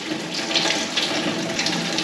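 Water runs steadily from a tap supplied by a newly installed well pump, a continuous close splashing flow lasting the whole moment with no talk over it.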